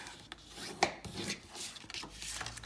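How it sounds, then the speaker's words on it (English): A bone folder burnishes score lines on paper for a handmade snail mail envelope, giving faint, steady rasping and rubbing strokes with a sharper scrape near the start. "I'm going to burnish all my score lines"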